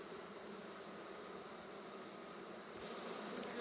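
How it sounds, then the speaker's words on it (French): Wild honeybees swarm around an open hive during a hive check, their steady buzzing a dense, continuous hum filling the air at close range with no talking. "Voilà, c'est de l'abeille sauvage, ça bouge, ça pique, ça se défend."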